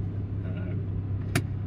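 Ford Focus RS Mk2 with Mountune MP350 tuning, driven in third gear with a low engine rumble and road drone close by, a short sharp knock near the end.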